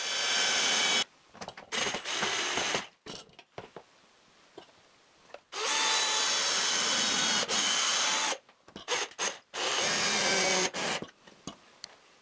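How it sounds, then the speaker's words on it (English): A power drill drives screws into a plywood strip in a woodworking shop, with several loud whirring bursts of a few seconds each, separated by short pauses and brief stop-start pulses, close by. "And I drive in a couple of screws."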